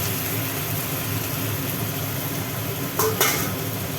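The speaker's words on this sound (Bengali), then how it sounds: "এখানে টমেটোটা পেস্ট করা আছে এটা ঢেলে দিলাম এইবার এটাকে ভালো করে কষতে হবে" Tomato paste and spices being stir-fried in a pan for an aloo-potol dalna, a continuous low frying hiss with faint scraping and a couple of brief utensil knocks near the end.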